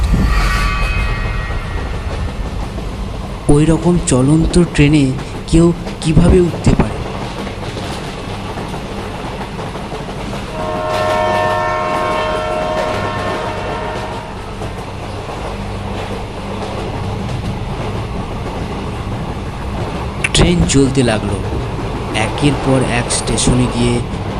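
Passenger train running at night, carrying a steady rumble and rattle of the carriages with bursts of louder clatter and brief tonal squeals; the sound is continuous and close, as if heard from inside a coach, with no talk.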